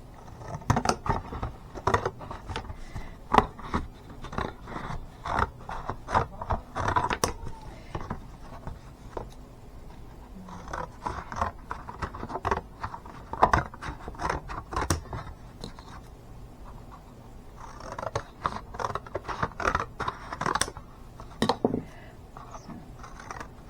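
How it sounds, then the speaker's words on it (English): Scissors snip through paper in a long series of short crisp cuts, close and fairly quiet, with brief pauses between runs of snipping. "I will cut this piece out, and I'm just going to use my scissors here."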